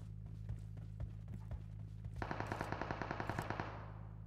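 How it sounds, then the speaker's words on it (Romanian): Rapid automatic gunfire rattles in a fast, steady burst in PUBG Mobile, loud and close after a stretch of quieter single pops and footsteps, with players chatting faintly in the background. "Trage la geamul."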